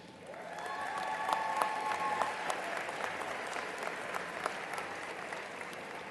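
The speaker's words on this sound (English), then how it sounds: "Let's give these dedicated individuals another round of applause." At a technology center graduation ceremony, the crowd gives school staff a warm round of applause, a dense even patter of many hands rising quickly and holding steady in a large hall.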